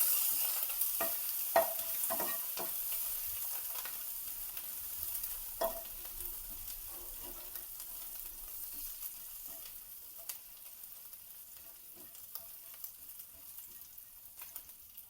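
Cumin, asafoetida and ginger-green chili paste tempering in a pan for ragda patties, a faint, fading sizzle with occasional utensil clicks and stirring scrapes.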